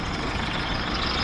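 Halifax city bus out on the street, a loud, close, continuous rumble of engine and air noise with a hissing breathy character, no voices.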